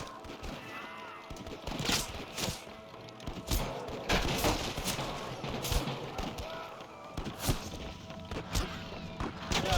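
Rapid bursts of gunfire in Red Dead Redemption crackle throughout, overlapping and uneven, with heavy impacts and crashes in a busy, loud mix.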